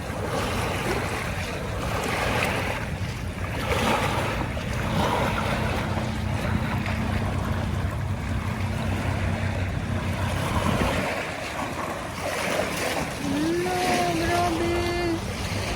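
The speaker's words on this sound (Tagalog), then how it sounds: "Ay, nagugulat ako sa alon ah." Sea waves washing along the shore of Manila Bay at low tide, a steady close surge with wind noise, and someone talking over it.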